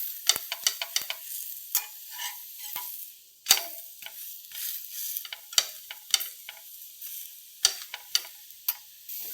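Uttar Karnataka style thalipeeth cooking in oil on a pan, with soft sizzling broken by sharp clicks and taps at an irregular pace, close and moderately quiet, with no talking.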